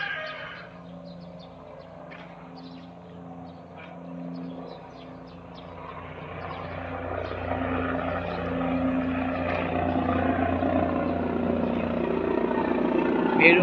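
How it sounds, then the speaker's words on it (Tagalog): A helicopter passes overhead during a morning walk after rain, a distant rumbling drone that slowly swells louder over more than ten seconds, under ambient outdoor noise with a person talking early on. "Mayroong helicopter."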